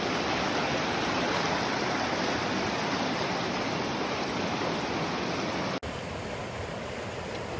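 Jumbo Creek, a mountain creek in the Kootenay area of British Columbia, rushes over rocks in a steady, close, broadband roar of flowing water, uninterrupted except for a brief click near the end.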